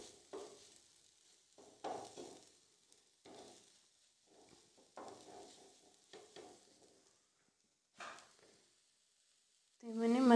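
Potato-semolina masala being stirred and mixed in a pan, with soft intermittent scraping and sizzling strokes in short bursts, fairly quiet, ending in a louder clatter.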